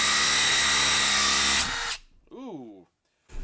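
Makita impact driver running with a half-inch to quarter-inch hex adapter: a loud, steady motor whine cuts off abruptly as the tool breaks, then a short swooping voice sound follows and a final burst of noise.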